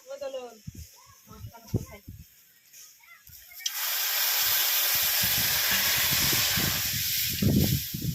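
Water goes into a hot pan of sautéed taro (mankochu), raising a loud, steady sizzling hiss that lasts several seconds, while a person talks quietly before and during it.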